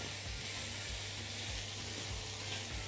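Onions frying in a pan give a steady, faint sizzle and hiss, with soft periodic low thumps throughout.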